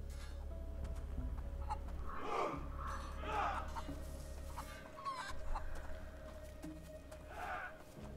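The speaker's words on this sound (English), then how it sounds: "Surprise that I'm fucking with the chickens, they don't hear it." Chickens clucking in the video game A Plague Tale: Innocence, several short bursts of clucks over a low steady background hum, moderately faint, with no talk.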